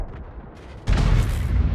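A single heavy tank gun shot in the World of Tanks video game, a sudden loud close boom that breaks a quiet lull and rolls on as a deep, sustained rumble.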